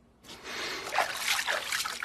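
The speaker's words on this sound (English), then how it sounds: "Maybe try splashing around a little." Water splashes steadily and close by, a continuous wet sloshing that starts abruptly and carries on with small surges, no voices over it.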